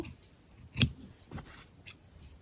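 A pair of scissors cuts through pantyhose in two or three sharp snips spaced about half a second apart, close and fairly quiet against a faint background hum, with no speech.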